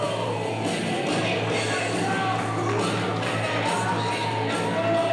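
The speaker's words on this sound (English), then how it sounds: "now the cheers for Kyle Maggard" Crowd at an independent wrestling show in Hazard, Kentucky, cheering and shouting in a continuous loud roar, with scattered yells and claps rising over a steady murmur.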